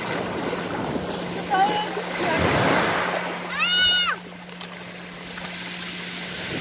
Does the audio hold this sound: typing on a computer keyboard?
no